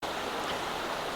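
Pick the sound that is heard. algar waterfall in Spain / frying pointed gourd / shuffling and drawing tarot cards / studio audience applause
algar waterfall in Spain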